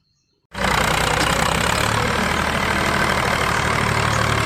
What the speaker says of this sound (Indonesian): ini traktor